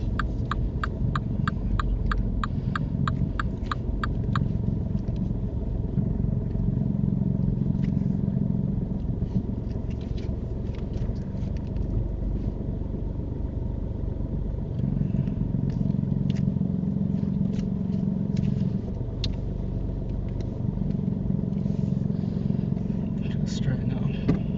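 Car on a mock driving test rolling forward into a parking bay, a low steady engine hum inside the cabin with a ticking indicator early on, while people talk over it.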